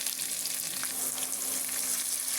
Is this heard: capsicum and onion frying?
yes